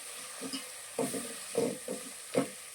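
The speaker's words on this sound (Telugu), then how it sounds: "ఇప్పుడు ఇవన్నీ వేసుకున్నాం కానీ ఒకసారి కలిపేసుకుంటాం" A spoon stirs turmeric and other spices into Shimla mirchi (capsicum) masala curry in a pan, making a few soft, separate scraping strokes over a faint sizzle.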